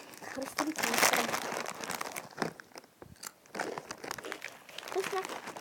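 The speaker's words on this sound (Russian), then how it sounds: "а теперь будем кушать твистер. Хрустим твистером." Someone bites and chews a Twister wrap, giving crisp crunching and crinkling bursts close by, mixed with rustling and some talk.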